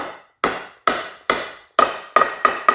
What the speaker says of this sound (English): Take your socket and smack it down into position.